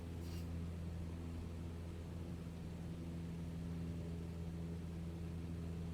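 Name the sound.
airplane engine in Microsoft Flight Simulator video game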